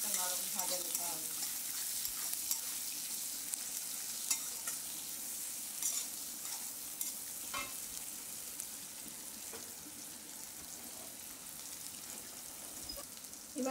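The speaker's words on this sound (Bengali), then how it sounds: "পেঁয়াজটা খানিকটা নরম ভাজা নিতে হবে।" Chopped onions fry in hot oil over a cumin tempering for a pointed gourd curry, with a steady close sizzle and occasional scrapes and clatters of stirring throughout, and no talk.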